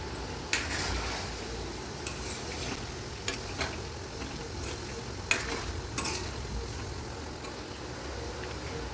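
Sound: stirring chicken frying in a pan

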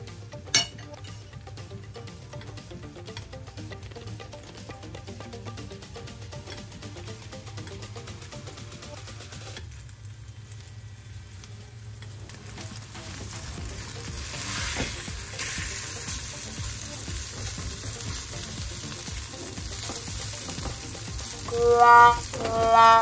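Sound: sandwich filling frying in a pan over medium heat

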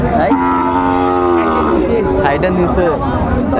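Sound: cattle mooing

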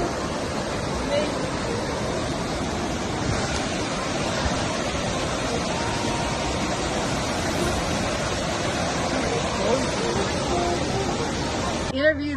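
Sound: waterfall on Cache Creek trail

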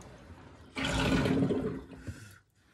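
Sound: rinsing a beef tongue under running water

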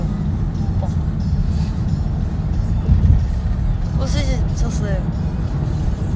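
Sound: car driving, heard from inside

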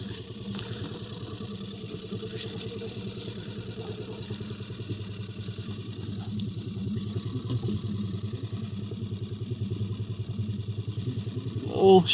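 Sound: petrol outboard boat motor

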